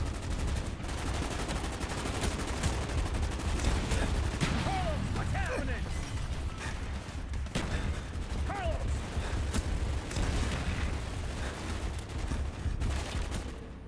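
Gunfire in Call of Duty: Black Ops, a dense loud battle with rapid machine-gun bursts and single shots close by, goes on throughout while voices call out over the shooting.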